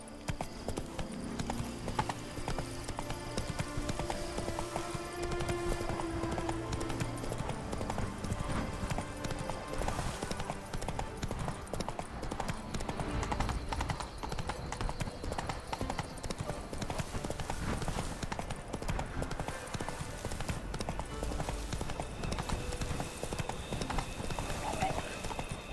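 Hooves of a horse in The Witcher 3 clip-clop in a steady rhythm over a dense bed of game music and ambience, with voices talking across the ride.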